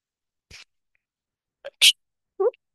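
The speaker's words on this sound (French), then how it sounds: "Pardon, je vais d'éternuer." A short, sharp sneeze bursts out in near silence, with a small breathy sound before it and a quick vocal noise after.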